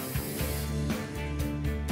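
An aerosol spray can primes a wicker patio chair, its hiss running steadily with brief pulses as the nozzle is pressed and released, close and continuous over a low background hum.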